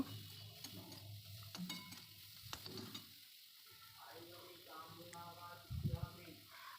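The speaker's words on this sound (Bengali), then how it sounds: "এবার দিয়ে দেবো নারকেল কোড়াটা, আবারও একটু ভেজে নেব।" Quiet sizzling and stirring as shrimp and grated coconut fry together in a pan for a shrimp and taro-stem dish, with intermittent utensil scrapes and a person talking over it.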